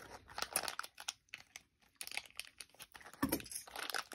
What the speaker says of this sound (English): I'm gonna open the mystery blind bags.